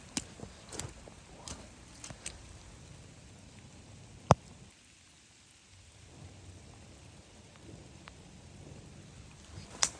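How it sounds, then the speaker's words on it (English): Heavy rain falls steadily as a dense, even hiss, with a few sharp cracks and knocks standing out near the start and middle; no voices are heard. "It's really raining. This is how much it's raining."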